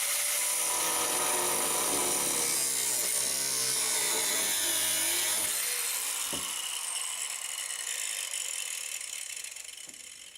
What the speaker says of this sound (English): The last part is we need to cut along the edge here of the fiberglass.